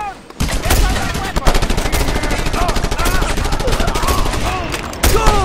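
Mounted gun in Just Cause 2 firing a loud, dense, continuous burst of rapid shots from just after the start to the end, with a brief pause near the five-second mark and shouted voices over the top.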